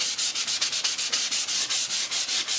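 A sheet of 500 grit sandpaper rubs back and forth over a leather strop in brisk, regular strokes, a close and steady gritty scraping with an even rhythm and no talk.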